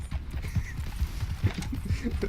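Steady clip-clop of horse hooves at a walking pace in the video game Red Dead Redemption 2, close and distinct, with a faint background hum.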